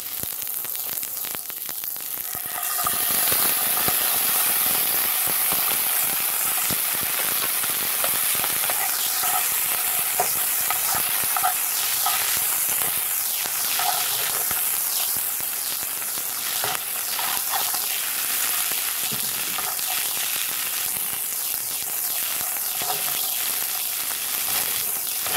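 Sardines dropped into a hot pan and frying Guyanese style, a sudden loud sizzle that settles into steady crackling and hissing with occasional stirring, close up and continuous.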